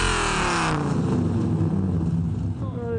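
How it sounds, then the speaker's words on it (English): A 1997 Dodge Viper GTS with an 8-litre V10 drives close by: a loud, deep engine roar with a falling pitch sweep as it passes, then a steady rumble under an announcer's voice. "The car is a Dodge Viper GTS. It's a 97 model."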